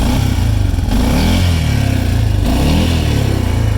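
An Arctic Cat 450i 4x4 ATV engine idles close by, a loud, steady, pulsing putter with a slight swell in revs partway through, and no one speaks over it.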